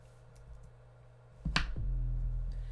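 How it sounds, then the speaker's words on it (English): A boomy 808-style bass from a mixing plugin thumps in after a sharp click-like attack, its deep low tone swelling and sustaining loudly near the end, alone without talking. "it's just kind of like an 808 boomy bass"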